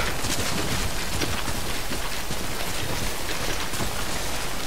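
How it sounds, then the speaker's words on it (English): Continuous heavy rain in the video game Death Stranding, a loud, dense hiss of falling drops with scattered patters throughout and no voices. "When will this rain stop?"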